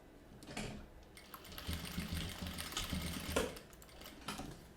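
A domestic sewing machine stitches nylon 600 on a bag in a rapid, steady mechanical whir, running in close bursts with brief pauses and slight changes in pace.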